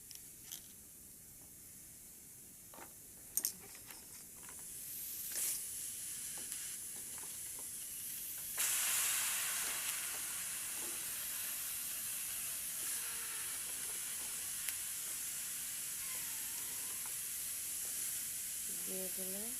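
Stalks and potatoes frying in a pan, a steady sizzle with steam that swells and brightens partway through, punctuated by scattered clicks and clinks of stirring.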